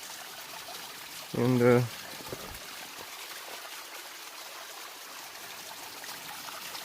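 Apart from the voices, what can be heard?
small waterfall on Franconia Ridge trail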